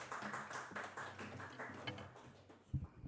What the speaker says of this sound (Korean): 우리 지봉현 목사님 나오실 때에 우리 큰 박수로 환영하겠습니다